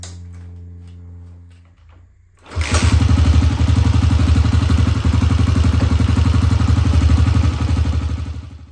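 After a low idle and a short pause, a motorcycle engine with freshly wrapped exhaust pipes fires up and runs loud and steady with a rapid, chugging exhaust pulse.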